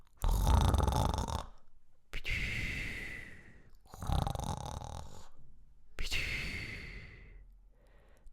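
A human voice imitates a yeti snoring loudly after eating, echoing inside a cave: four long, rasping, breathy snores in a slow, steady rhythm with brief silent gaps, close and loud.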